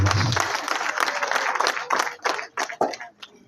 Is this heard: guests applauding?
yes